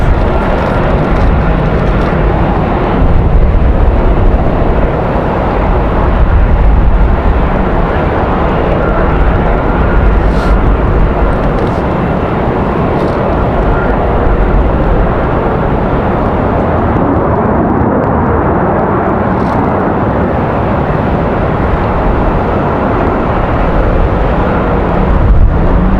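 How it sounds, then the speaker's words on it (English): A Southwest airliner takes off from Raleigh-Durham airport on a windy day, its jet engines roaring loud and steady throughout with broad rumbling noise that barely varies. "Southwest 2014 headed back to Baltimore. They're cleared for takeoff."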